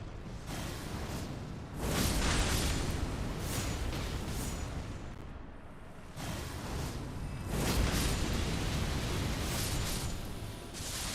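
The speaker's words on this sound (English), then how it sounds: "There's the explosions." Explosions in the video game Elden Ring, played underground, form loud, dense bursts that swell around two seconds and again near seven and a half, with roaring, washing tails in between.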